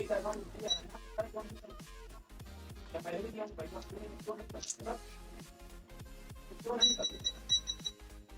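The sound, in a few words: multimeter beeping in continuity mode, shorted capacitor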